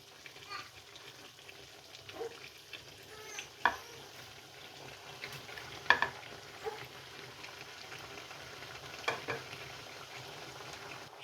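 Chicken frying in a pan with spinach, heard as a low, faint sizzle with occasional stirring clinks and scrapes across a longer stretch, somewhat distant and subdued.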